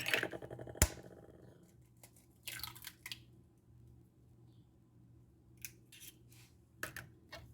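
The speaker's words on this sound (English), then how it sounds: "you're going to whisk everything together" Eggs and rice mixture whisked in a bowl, heard as a few faint, scattered bursts of quick metallic clicking and scraping separated by near silence.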